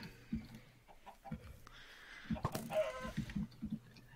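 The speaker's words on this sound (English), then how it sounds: "Endless source of chickens, Lack." Chickens in Minecraft cluck in short scattered bursts, near and fairly quiet, with a few sharp clicks in between.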